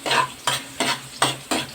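Garlic frying in hot oil for pork intestine adobo, a sizzle broken by five rhythmic stirring scrapes about every third of a second, close and fairly loud.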